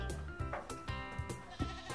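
Goats bleating at a cattle farm in the Philippines, several close, loud calls repeating in quick succession with short pauses between them, no talking.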